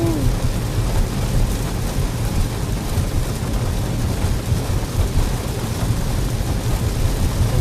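Heavy downpour in a Minnesota thunderstorm, a dense, constant roar of rain with low rumbling thunder underneath, close and loud with no talking.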